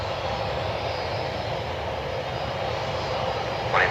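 An airliner taxis out for departure at Cleveland Hopkins airport, a steady broadband jet engine rumble and hiss holding at a constant level throughout, fairly close.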